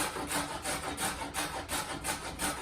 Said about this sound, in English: hold down your grater on the cutting board, and we're just going to start grating.